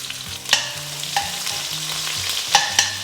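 Sliced onion frying with cloves, bay leaves and caraway seeds in a pot of hot oil for gonguura chicken pulao, a steady close sizzle with a few sharp clinks and scrapes of stirring.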